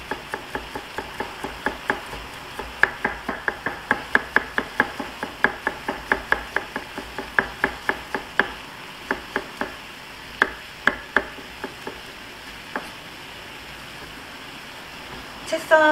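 A knife chopping garlic into strips on a cutting board, a long run of quick, crisp, evenly spaced taps close by that thin out toward the end, with a voice talking over it.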